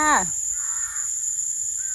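An outdoor forest setting where a crow gives one loud, close caw right at the start, followed by a steady high whine and faint low background noise.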